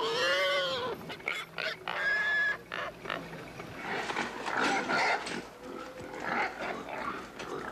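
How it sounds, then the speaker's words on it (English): Pigs at a prize pig farm in Hanoi squeal and grunt in a noisy jumble of overlapping calls, several animals close by, with brief quieter gaps between bursts. "No one's allowed to leave Hanoi without visiting the prize pig farm."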